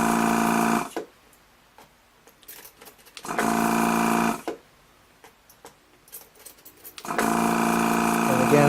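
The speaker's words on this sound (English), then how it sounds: "basically what I'm doing here is I'm just removing the solder from each of these pins" A powered desoldering tool draws solder off circuit board pins in three loud sustained buzzing bursts of a few seconds each, separated by quieter gaps holding faint clicks and ticks.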